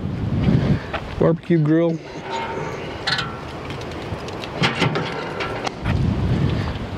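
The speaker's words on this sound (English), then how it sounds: "That wind is whipping." Strong wind buffets the microphone at a state park campsite by a river near Pawnee Rock, roaring in gusts throughout while a person briefly speaks.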